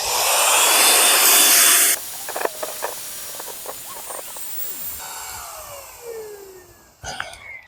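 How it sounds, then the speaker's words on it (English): A Flextail Max Pump 3 electric pump inflating an air mattress for a bivy sleep setup roars with a loud, steady airy whir for about two seconds, then cuts off, leaving quieter rustling and handling noises nearby. "I'm using the Flextail Max Pump 3, and it's a phenomenal pump. Works super fast"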